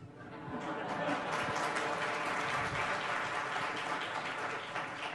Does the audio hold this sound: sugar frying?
no